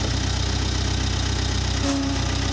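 A Case 1845 skid steer engine runs at full throttle, a loud, steady mechanical drone with an even rhythmic pulse, heard close and alone.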